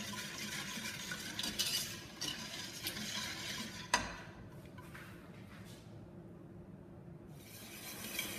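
Sugar being stirred in a pan while it cooks toward a pearl colour, with soft scraping and a few light clinks of the utensil against the pan, plus one sharp knock partway through; fairly quiet, no voices.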